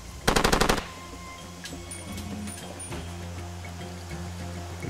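Rapid automatic gunfire from the Far Cry 2 video game, a tight burst of about six loud shots at the start followed by quieter in-game ambience with faint rhythmic background noise.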